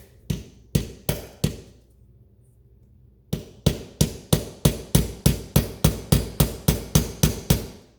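Sharp, loud hammer blows strike in a steady rhythm to force a 6S 4000mAh LiPo battery into an RC Viper Jet model, with a few hits, a short pause, then a long rapid series of evenly spaced knocks.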